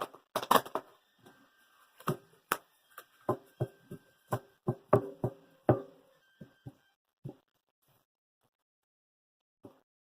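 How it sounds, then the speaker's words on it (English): A run of sharp, dry clicks and slaps from tarot cards being shuffled, bunched in quick flurries and then thinning to a few scattered taps before silence. "One more shuffle."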